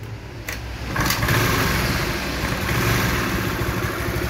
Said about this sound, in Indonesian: Ini akan kita teskan hidup sepeda motornya.